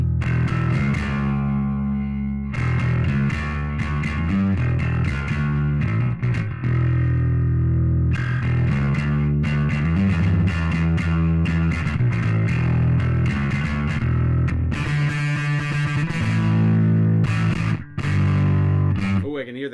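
A steel-string guitar played through a Nembrini Audio Blackice Beta Gamma amp sim, with heavily distorted, compressed chords and notes ringing out in phrases, broken by short pauses.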